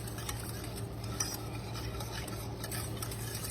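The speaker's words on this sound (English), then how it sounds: "And what I do, I pick it up off the heat and give it a stir." A spoon stirs a German chocolate cake mixture of butter and evaporated milk in a pot off the heat, a soft continuous scraping and swishing, faint and close with no voices.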